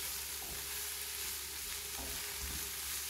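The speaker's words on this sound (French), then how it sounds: "je vais les laisser cuire comme ça. Tout en mélangeant bien pour pas que ça colle quand même sur le fond de la poêle." Chanterelle mushrooms sizzle steadily in a frying pan while being stirred, a continuous close frying hiss with soft scraping touches from the stirring and no voices.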